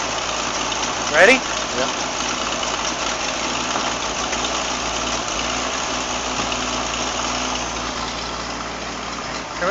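A 1960 Ford Ranchero barn-find engine runs at a steady rough idle throughout, with a brief clunk near the start as it is put into reverse, while people speak briefly over it.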